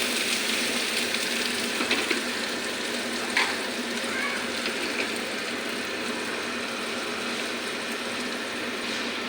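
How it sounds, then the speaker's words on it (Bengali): Steady broadband sizzling of spice tempering in hot oil after frying dried fish, continuous and fairly close, with a couple of faint clinks and no talking. "লটকা শুকনা মাছগুলি ভাজা হয়ে গেছে এখন আমি ফুরন দেবো"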